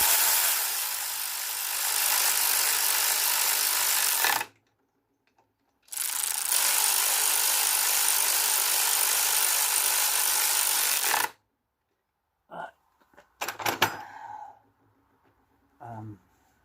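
A spanner works the bolts of a Peugeot 404/504 BA7 four-speed gearbox under repair. Two long stretches of steady, close rasping and ratcheting are followed by a pause, then a few short metallic clicks and knocks.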